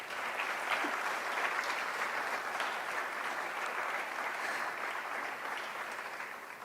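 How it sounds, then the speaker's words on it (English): Sustained applause from an audience at an Albinism Awareness Day event, thanking the earlier presenters; dense, steady clapping fills the whole stretch at an even level, with no voices over it. "Please give yourselves a round of applause."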